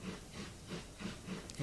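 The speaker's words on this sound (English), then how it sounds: "if any of you know how to get rid of that dang hissing sound from this engine" A steady hiss from a locomotive's pressure relief valve in Train Simulator, running continuously and fairly faint over low engine rumble during a local freight operating session.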